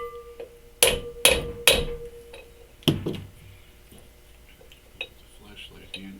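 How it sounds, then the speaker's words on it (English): A hammer knocking out the outer race of a front wheel bearing on a 1963 Chevy C30 truck: three loud, sharp metallic blows in quick succession, then a fourth, followed by faint taps and clatter. "We're going to try and knock this race out."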